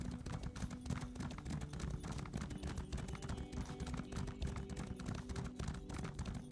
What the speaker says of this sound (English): So we're just riding on the horse.